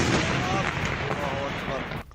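Heavy gunfire in Alawite areas in news footage: a dense, loud, continuous roar of overlapping shots with voices mixed in underneath, cutting off abruptly at the end.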